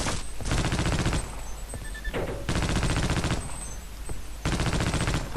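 Rapid machine gun fire in the game Opposing Force, loud sustained bursts of automatic shots in three long strings separated by brief pauses.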